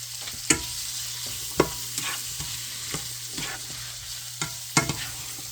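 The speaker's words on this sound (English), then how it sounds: "And then we're just going to fry up the onions." Onions and beef sausage fry in a pan, a steady close sizzle broken by a handful of sharp stirring scrapes and clacks of a utensil, with no voices.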